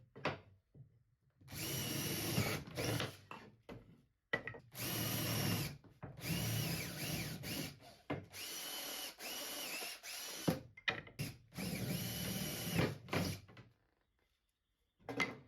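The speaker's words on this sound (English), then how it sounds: "it's time to drill some more holes" A power drill bores holes in scrap wood clamp parts, whining in repeated bursts of several seconds with short pauses and clunks between, recorded close and fairly quiet.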